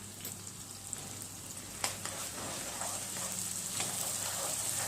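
Onions frying in hot oil with ginger-chili paste, a continuous bright hiss of sizzling close by, broken by a few faint clicks and stirring scrapes, steady throughout with no voices.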